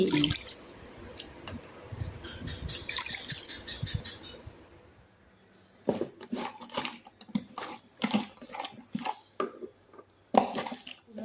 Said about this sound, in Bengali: ওই যে লাল শাকগুলো একটু ধুইতেছি ভালো করে কাদামাটি ভর্তি